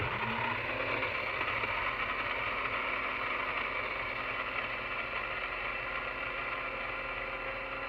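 Beets are ground to make natural pigment, giving a steady, dense grinding drone that runs unbroken through the whole stretch at moderate level.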